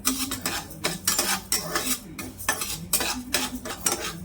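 Urad dal roasts in a dry pan while a metal spoon stirs it in regular rhythmic strokes, each pass a bright gritty scrape against the metal, close and alone without talk.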